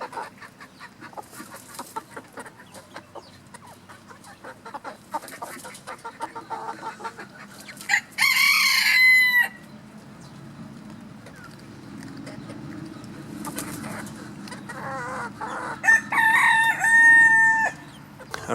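A rooster in a pen crows loudly twice, with hens clucking softly in the background between the calls as new chickens meet an older flock.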